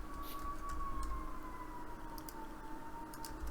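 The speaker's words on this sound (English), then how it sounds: "I hear that siren outside." A distant siren wails with a slowly falling tone, steady and faint over quiet outdoor background noise.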